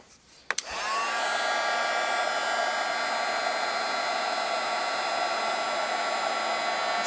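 A heat embossing tool blows hot air over embossing powder on a stamped butterfly card, a loud steady whirring hiss that starts after a couple of faint clicks and runs on unbroken with no talking.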